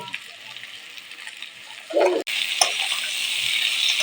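Chopped vegetables and tomatoes for pasta fry in a pan with a soft, steady sizzle. A louder stir breaks in partway through, and then a brighter, stronger hiss continues.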